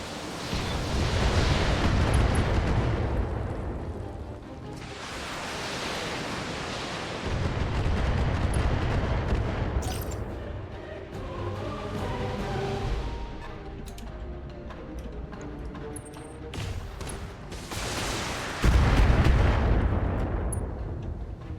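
Heavy mech weapons firing in the BattleTech video game: repeated loud booming salvos and cannon blasts in bursts, with crackling impacts and shorter sharp shots between them.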